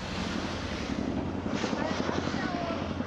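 A CH-46 or Army CH-47 tandem-rotor military helicopter flies over the China Bowl at Vail ski area, a steady broadband rotor roar mixed with wind noise that holds throughout, with faint pulsing.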